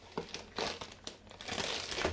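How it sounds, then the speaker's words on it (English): A plastic IKEA Ziploc bag crinkles in the kitchen while pizza dough is packed for the microwave, with soft irregular rustles and crackles heard close up and no talk. "IKEA Ziploc cover"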